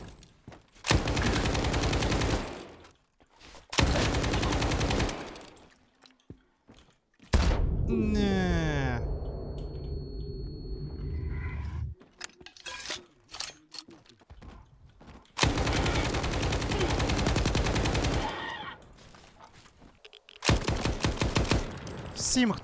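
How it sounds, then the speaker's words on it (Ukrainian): RPM light machine gun firing in the S.T.A.L.K.E.R. 2 video game, loud sustained bursts of automatic fire separated by pauses, with game thuds and a whooshing effect between them. "Дістаємо наш РПМ. І накидаємо ще їм трохи."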